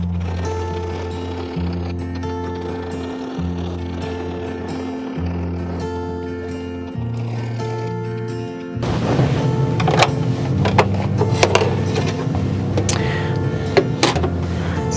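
Embroidery machine stitching a design on a 5x12 hoop: steady mechanical hum with stepped tonal shifts, then a louder, busier rhythmic chatter of rapid needle strokes with sharp ticks, running continuously throughout.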